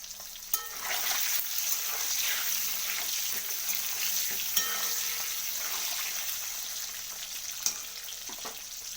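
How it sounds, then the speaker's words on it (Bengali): Duck eggs fry in hot oil with a constant crackling sizzle, close and even throughout, broken by three sharp clicks of a utensil against the pan. "তো এরপর আমি ডিমগুলোকে তো ডিমগুলোকে আমি ভেজে তুলে নেব।"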